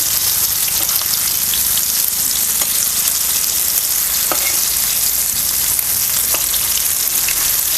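Semolina-coated fish pieces frying in oil on a flat pan, a loud, close, continuous crackling sizzle with scattered sharp pops and no voices.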